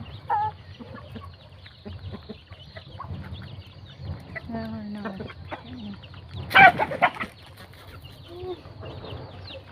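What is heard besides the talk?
chickens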